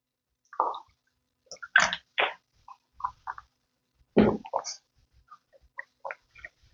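Someone takes quick gulps of water during a break outdoors, giving short wet swallowing and squishing sounds spaced irregularly against near silence.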